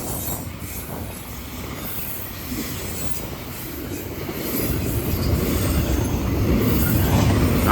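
A Norfolk Southern GE Evolution locomotive running by, a steady close rumble of rolling wheels and rail noise that grows louder midway, with faint wheel squeal.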